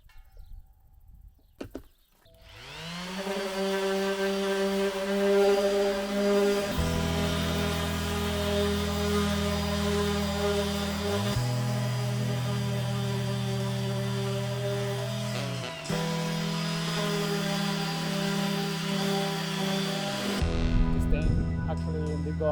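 Power sander working over stained wood siding on a self-built tiny house, a loud steady droning whine that holds for about twenty seconds, its low tone stepping up and down in pitch a few times.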